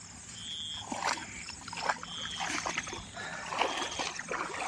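Floodwater released suddenly through a gate rushes past a riverside camping spot in the rain, a steady close roar of churning water with faint intermittent voices.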